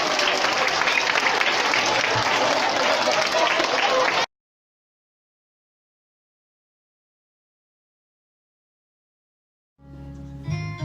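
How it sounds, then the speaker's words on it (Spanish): Audience applause at a Christmas school festival, a dense, steady wash of clapping for about four seconds, then sudden silence before music begins faintly at the end. "aplauso."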